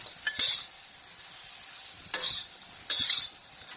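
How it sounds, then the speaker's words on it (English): Okra stir-frying in oil with fried belacan, a steady sizzle punctuated by three scraping stirs of a utensil against the pan, close and fairly loud, no talking. "I sort of circle the okra in, okay, like that, and coat the okra with the belacan that I fried up in the oil"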